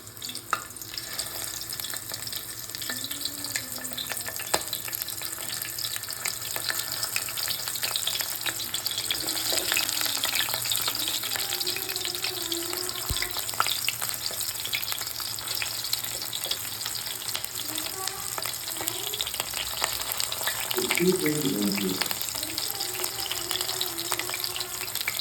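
Bitter gourd pieces sizzling steadily in a pan, prepared as a coconut-garlic chilli fry, with a continuous hiss throughout and brief clinks and stirring scrapes near the end.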